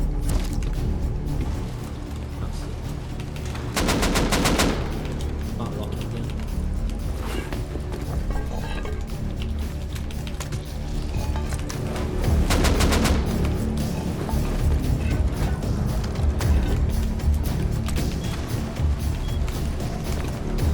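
Automatic and single gunshots ring out in the survival game Rust, with two dense bursts of rapid fire standing out above constant background game noise and movement, no one speaking.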